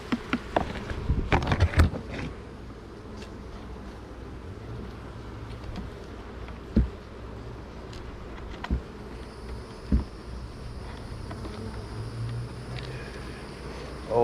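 Honeybees hum and buzz around an open hive holding fresh comb, a close, continuous insect drone punctuated by sharp handling knocks and clatters, with no talking over it.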